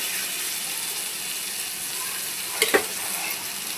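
Fried onions are tipped into a pan and stirred, giving a steady soft sizzle with a brief clatter of the spoon near the end.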